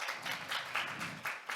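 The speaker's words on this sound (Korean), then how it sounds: "다시 한번 큰 박수 부탁드립니다." Audience applause after a team's presentation at a data competition results event: a steady wash of many hands clapping at moderate distance, fairly quiet and continuous with slight swells, no voices over it.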